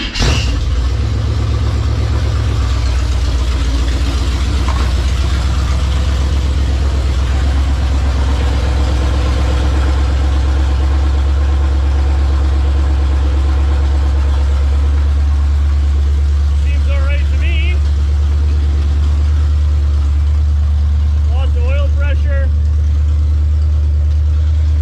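A 454 big-block V8 in a Chevrolet K10 square-body truck idles loudly and close by with a heavy, steady low rumble after starting. Voices talk briefly over the engine.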